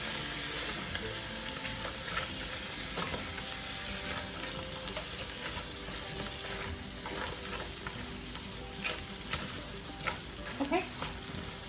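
Garlic-coated Dungeness crab legs tossed in a hot pan, a steady soft sizzle and fry with occasional scraping and clinks of stirring, fairly quiet and close.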